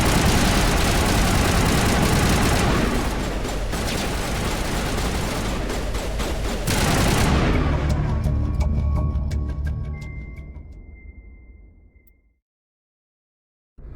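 A Mass Effect firefight rages as a dense, loud wall of weapon fire and rumbling explosions, sustained and heavy for several seconds before thinning into scattered sharp shots and fading to near silence.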